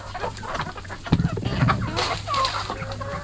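Darag chickens cluck close by on a farm, a few short clucks and soft calls against faint background noise.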